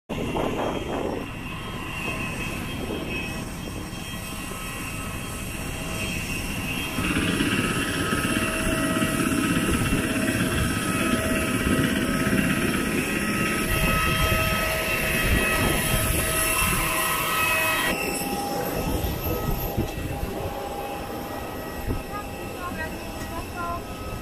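Steady roaring cabin drone aboard an IndiGo passenger jet flying from Aizawl to Guwahati, loud and continuous throughout with a constant engine whine and hum and no breaks.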